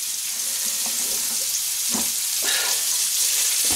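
Onions fry in a pan with a steady, hissing sizzle up close, broken by a few soft knocks and scrapes of stirring.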